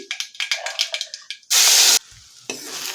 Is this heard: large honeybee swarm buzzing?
no